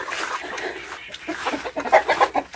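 Chickens cluck and murmur close by while being fed cucumbers, with a busier burst of clucking toward the end over a low background.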